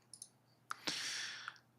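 A computer mouse gives a few sharp, close clicks, two quick ones followed by a louder pair, with a faint hiss of room noise and no talking.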